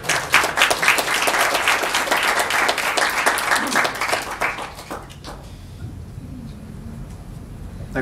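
A round of applause from a small audience, dense clapping that tapers off after about five seconds into quiet room tone.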